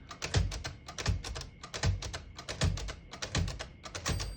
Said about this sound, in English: I'm going to go and clear all of those by hitting the tab and then hit CL right next to it.